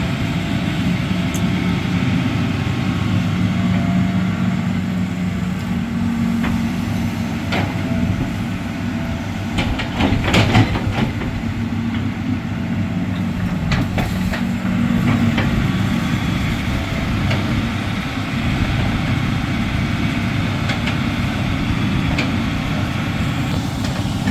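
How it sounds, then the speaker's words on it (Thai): A Hitachi Zaxis 200 long-boom excavator with a six-cylinder Isuzu direct-injection engine, clearing soil from a lined canal, gives a steady, loud, close rumbling drone that carries on for the whole stretch, with a few brief clanks partway through and no talking. "ฟังเสียงคำรามของเครื่องยนต์ i s u z 6 PG ครับ"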